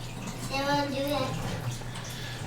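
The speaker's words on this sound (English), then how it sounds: "the fish tank is now installed and cycling through its nitrogen cycle, so there may be some running water noises in the background" Gentle running and trickling water from a newly installed fish tank going through its nitrogen cycle, a steady low wash with a brief bubbling swell early on, heard alone.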